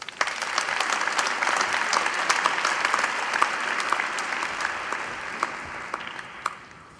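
Graduates of an engineering faculty receive a steady round of applause from the ceremony audience, a dense wash of many hands with occasional sharper claps, fading out near the end.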